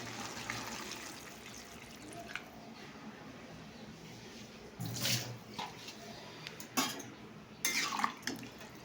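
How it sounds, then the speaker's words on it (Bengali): Water is poured into a cooking pot on the stove with a soft, steady trickle and splash, joined by a few louder metallic clanks and sloshes toward the end, at close range and with no talking. "এবার আমি জল দিয়ে দেবো।"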